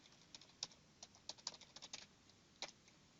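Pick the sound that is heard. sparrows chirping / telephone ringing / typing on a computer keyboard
typing on a computer keyboard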